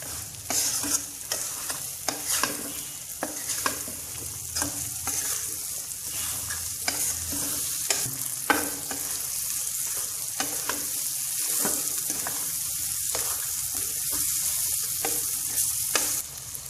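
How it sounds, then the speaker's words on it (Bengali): Mustard paste, oil and a chopped bay leaf are stirred in a pan for green chili pickle, with a soft continuous sizzle under regular scraping and tapping strokes of the spoon throughout. "এবার আমি নেড়ে ছেড়ে মিশিয়ে নিলাম"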